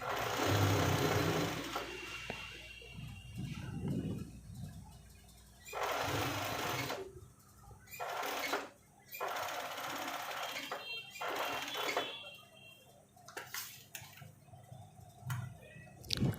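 A tailor's sewing machine stitches a coat in several bursts of rapid mechanical whirring, separated by short pauses and soft handling noises, heard up close with no talking.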